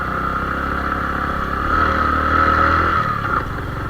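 Bajaj Platina motorcycle pulling up a steep hill in first gear, a steady strained engine drone close by that swells louder midway, then eases off near the end.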